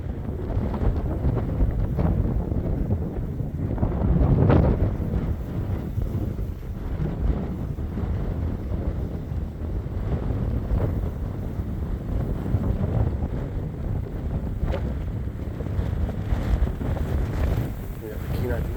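Strong wind buffets the microphone at the Upper Huffman overlook in Anchorage, a continuous low roaring rumble with gusts swelling and easing, loud and close throughout, while a person talks under it.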